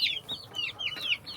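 Large chicks settle into a new, roomier coop, giving a run of repeated high clucks and cheeps in quick succession, close by, with a steady low hum underneath.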